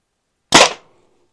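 A Byrna TCR airgun fires one 3.8 gram Duke Glassbreaker round with a single sharp, loud close pop out of silence and a quick fading decay.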